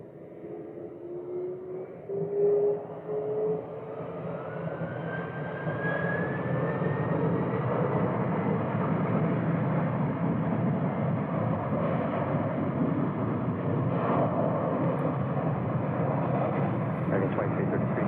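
An Air Transport 3487 Heavy jet powers up for takeoff on runway 25 right, its engine roar swelling from a whine into a loud, sustained rumble that holds steady, heard from nearby with a faint rising tone early on.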